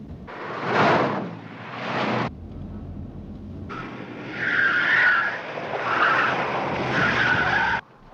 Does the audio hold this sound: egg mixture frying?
no